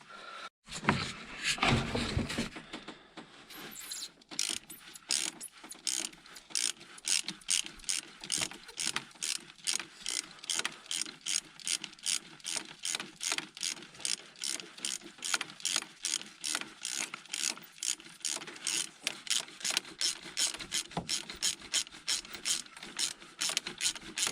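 A hand ratchet with a flexible adapter and long socket unscrews glow plugs from an engine, giving a long, steady run of quick, close metallic clicks after a brief louder rustle at the start.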